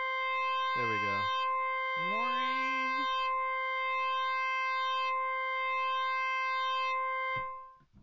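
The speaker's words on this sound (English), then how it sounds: "So you can have a looping envelope as well." A steady, sustained analog synth tone from Ableton with a looping envelope holds throughout, while a person talks briefly over it near the start; the tone then fades out at the end.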